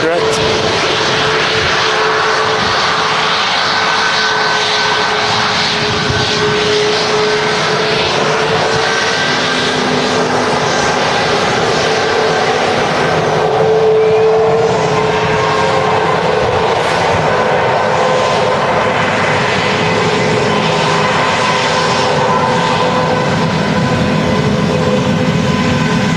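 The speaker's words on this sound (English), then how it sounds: "Seen a lot more Maxes being utilised now from Manchester." A Ryanair Boeing 737 MAX 8200 jet at Manchester Airport rumbles steadily at a distance, a broad continuous engine roar lasting throughout, with people talking over it.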